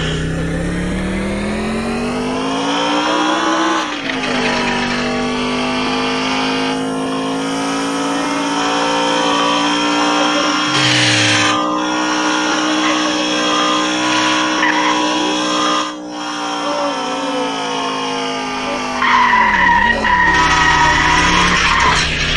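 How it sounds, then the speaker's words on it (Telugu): A Scorpio SUV in an Indian open-world driving video game runs loud and close, its engine droning and revving steadily with tire squeals and skids, and a brief drop in the engine note near the end. "స్కార్పియోలో స్టార్ట్ అవ్వట్లేదు ఇంకా. ఎస్ స్టార్ట్ అవుతుంది."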